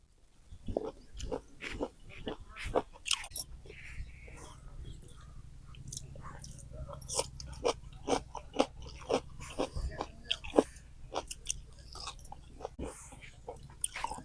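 Someone bites and chews spicy chicken kebab outdoors, making repeated crisp, close bites and chewing sounds in an irregular rhythm over a faint low background hum.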